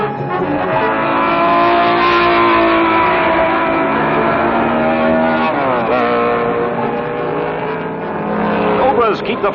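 Cobra and Ferrari race cars run hard at Sebring. Their engines roar loudly and continuously, and a pitch sweep near the middle marks a car passing.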